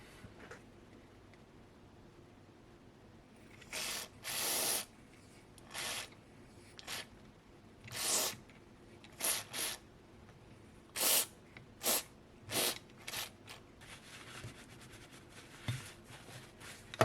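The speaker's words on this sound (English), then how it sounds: "might just hose it with some contact cleaner?" Contact cleaner sprayed onto a Ford Fairmont climate control module in short, sharp hissing bursts, about a dozen, irregularly spaced and close, with quiet pauses between.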